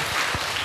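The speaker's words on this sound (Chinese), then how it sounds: "我们掌声谢谢" An audience at a Buddhist study gathering in Malaysia claps together, a brief dense burst of applause heard from within the hall.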